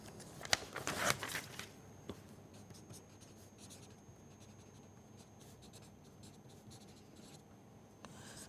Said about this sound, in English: let us write this down